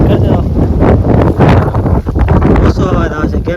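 Strong wind buffets the microphone outdoors on a farm where cumin is being sprayed, a loud, continuous low roar with gusty surges throughout.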